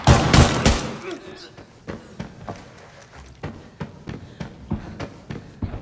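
Gunfire from shooting at bots in the shooter game Arena Breakout, opening with a loud burst of rapid shots, then scattered single and paired shots with light footsteps in between.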